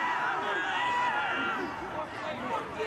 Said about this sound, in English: You can hear the St Thomas crowd behind